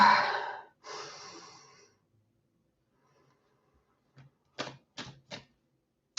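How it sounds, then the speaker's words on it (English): Deep breaths drawn in during a guided energy meditation, a long inhale followed by a second, then after a pause several short, sharp sniffing breaths close by. "Breathing."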